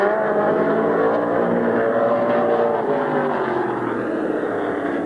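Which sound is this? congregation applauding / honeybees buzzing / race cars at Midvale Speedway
race cars at Midvale Speedway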